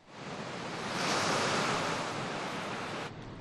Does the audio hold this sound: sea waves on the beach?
yes